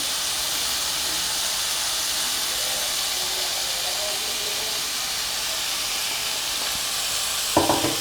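Cauliflower for a gobi pepper fry roasts slowly in a pan on low heat, giving off a steady, soft hiss and sizzle, with a brief clatter of a utensil at the very end.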